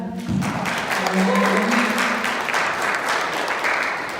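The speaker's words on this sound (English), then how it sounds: "Can we give them a hand clap?" Audience applause at a university talk on mental health in communities of color, a dense steady wash of clapping lasting several seconds with a faint voice briefly underneath.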